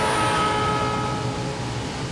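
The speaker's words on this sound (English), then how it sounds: "as the train recedes into the distance away from you" A steady, rumbling train passes with a rushing roar, holding level for a couple of seconds before easing slightly as it moves away.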